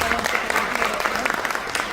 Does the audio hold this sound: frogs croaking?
no